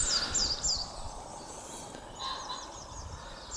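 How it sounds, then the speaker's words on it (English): Birds chirp and sing outdoors among spring greenery, a few quick high calls near the start and a faint run of repeated notes later, over a soft steady background hiss. "Listen to the optimism of the birds."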